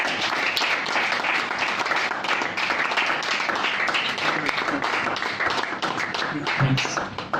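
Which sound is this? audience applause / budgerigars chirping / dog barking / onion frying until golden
audience applause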